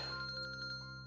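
In a visual novel video game, a mobile phone rings with a bright, repeating electronic melody that holds steady and clear across its short length over a soft musical background.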